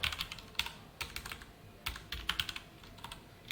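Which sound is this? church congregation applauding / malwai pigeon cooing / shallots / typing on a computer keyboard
typing on a computer keyboard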